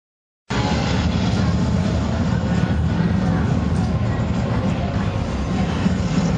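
A rift tear opening in the fantasy MMO Rift: Planes of Telara, heard as a sustained, loud roaring rumble that starts abruptly after a brief silence and holds steady throughout.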